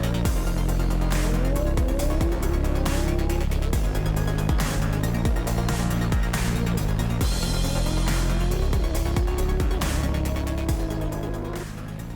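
Combustion-engined race cars in the Trophy Andros elite super final at the Stade de France in Paris snarl and rev hard, engines rising and falling through gear changes with tire squeals, loud and continuous with no talk.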